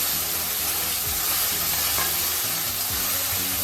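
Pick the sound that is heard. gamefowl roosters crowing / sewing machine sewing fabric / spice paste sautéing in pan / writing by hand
spice paste sautéing in pan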